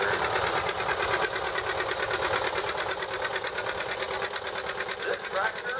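A 1954 John Deere 60 tractor, weathered but working, runs in a town parade with a steady, rapid rhythmic chugging. The engine is close and loud throughout, with a voice speaking over it.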